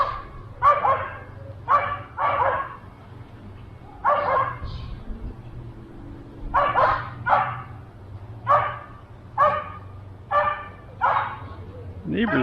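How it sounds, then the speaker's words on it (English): A neighbour's dog barks in short repeated bursts, some doubled, at a moderate distance over a low steady hum, with occasional pauses between volleys. "Neighbor's dog."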